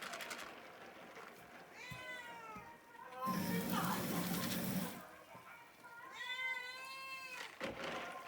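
A cat meows twice, drawn-out and fairly close, with a burst of running water or rustling noise between the calls.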